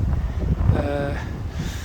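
Steady low wind rumble buffets the microphone throughout on a hillside overlooking forests and the Pentland Hills near Glentress Mountain Bike Centre, with a faint voice briefly surfacing beneath it.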